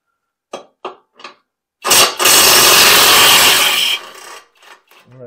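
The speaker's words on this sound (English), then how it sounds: "I cannot believe what this little air gun is doing" A small air impact wrench works loose a control arm bolt on a 2015 Jeep Cherokee KL. A few short trial bursts come first, then one long, loud hammering burst of about two seconds, followed by scattered clicks.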